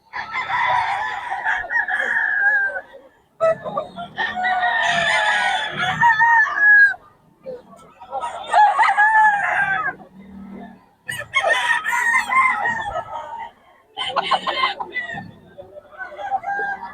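Roosters at a chicken market in Bocaue crow repeatedly in loud, close bursts separated by short pauses, with clucking and fainter background sounds between the calls.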